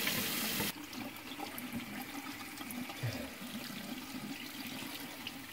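Lukewarm water poured over an orgonite mould, a brief bright splash at first, then a softer steady trickle and gurgle of draining water, close and fairly quiet.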